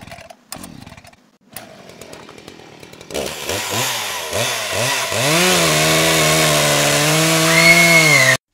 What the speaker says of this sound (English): my video camera got into a horrible chainsaw accident.